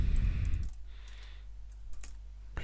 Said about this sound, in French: Si je vais dans contenu, je tape budget.